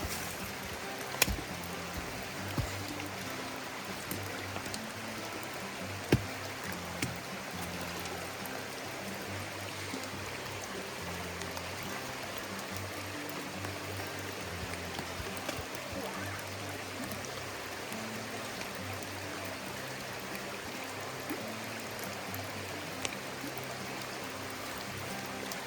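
High river water rushes steadily over a trail crossing with no bridge, a continuous broadband flow with a few sharper splashes, close and fairly loud, no voices.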